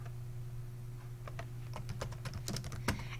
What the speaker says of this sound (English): and type in your comment